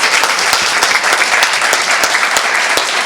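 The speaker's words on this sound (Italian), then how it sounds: "E noi con questo applauso ovviamente te lo auguriamo di cuore." Audience at a live broadcast in Ollolai, awaiting the donkey Palio, applauds; dense, steady clapping from a crowd, loud and close, sustained throughout without talk.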